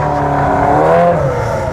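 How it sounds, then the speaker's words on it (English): Engine revving at a car meet, a loud sustained roar rising and falling in pitch over under two seconds, close by, with no voices. "There we go, a bit more revving"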